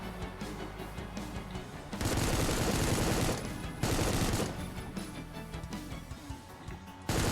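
Sustained automatic gunfire from a chain gunner enemy in the shooter game Supplice, a dense, loud rattling burst that swells, then drops back and returns amid other game noise.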